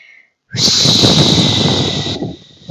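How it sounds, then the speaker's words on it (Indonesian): A long breath pushed out through the mouth as a stress-relief exercise, a steady airy hiss lasting about a second and a half, close and fairly loud, with no talking. "saat kamu menghembuskan napas, kamu mengeluarkannya dari mulut seperti berbunyi"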